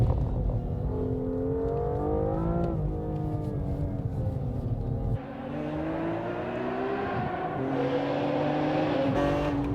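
A new BMW M2 and a tuned BMW M3 race on a track, engines roaring loud and close, pitch climbing through gears with a sharp shift midway before revving up again.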